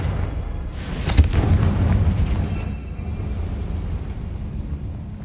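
Confringo spell explosion in Hogwarts Legacy, a sudden blast with a sharp crack followed by a heavy low boom that rumbles and slowly fades over several seconds.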